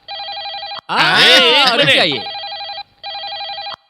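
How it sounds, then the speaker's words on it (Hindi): A telephone bell rings in repeated loud bursts. A voice talks over the first ring, which is followed by a short gap and then two more rings with no one speaking. "मेरा फोन मेरे लिए नहीं तो किसके लिए बजेगा?"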